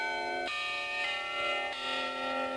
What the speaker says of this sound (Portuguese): O jornal mantém a velha tradição de tocar o carrilhão a cada hora